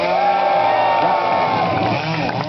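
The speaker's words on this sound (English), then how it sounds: "3 cheers from the audience, and then big time." A crowd cheers and whoops loudly and continuously, a dense wash of many voices with some shouting mixed in.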